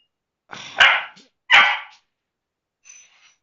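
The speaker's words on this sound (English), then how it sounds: "Don't bark, Spenny." A dog barks indoors in an office, two loud close barks about a second apart followed by a faint, brief whine.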